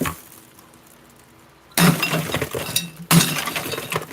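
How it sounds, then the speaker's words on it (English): Ice cubes pulled from a deep freezer clink and clatter in two bursts, the second after a short pause, heard up close with no talking. "let me grab a couple ice cubes here in my deep freezer"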